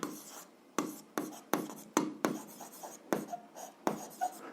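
Handwriting during an algebra lesson, with a series of quiet, close scratching pen strokes in short bursts separated by brief pauses, faint and alone.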